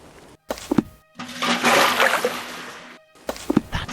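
In a Sherlock Holmes: Nemesis game scene, cold water is splashed onto an unconscious man named Smith: a loud, close, sustained splash and pour lasting about two seconds, with a short voice before it and after it.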